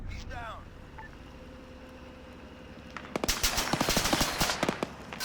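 Rapid automatic gunfire crackles in the military video game Arma 3, a sudden dense burst of loud shots after a quiet stretch, with a voice talking over the battle.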